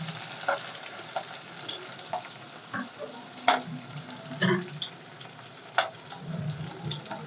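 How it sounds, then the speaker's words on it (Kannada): Onions frying in oil with crushed garlic and curry leaves for a Kannada green gram saaru, a steady low sizzle broken by occasional sharp spatters and utensil scrapes, no voices. "ಚೆನ್ನಾಗಿ ಫ್ರೈ ಆಗಲಿ ಈರುಳ್ಳಿ ಎಲ್ಲ"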